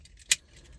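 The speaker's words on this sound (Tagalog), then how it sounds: "Testing natin tong susi." A short, bright jingle of keys close by, a single quick shake standing out against a low background hum, with no talking.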